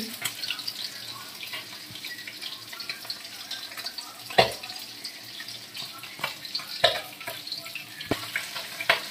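Fresh bata fish from the Ajay river fry in a pan with a soft, steady sizzle, broken by a few sharp clicks and taps of a utensil.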